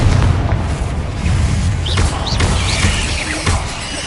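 Blasting curse explosions in Hogwarts Legacy fill the stretch with dense, rumbling booms and crackling debris, one blast rolling into the next with no pause.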